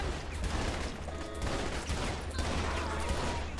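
Gunfire fills a street fight in Saints Row The Third with a loud, continuous crackle of overlapping shots. Rapid bursts and single cracks blend into an unbroken barrage the whole way through.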